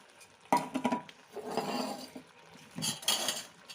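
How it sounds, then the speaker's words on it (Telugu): A spoon clatters against a pan while stirring a prawn and capsicum masala curry with green chillies and chilli powder, in several clinking, scraping bursts separated by brief pauses, close up and with no talk. "బాగా కలుపుదాం ఇప్పుడు"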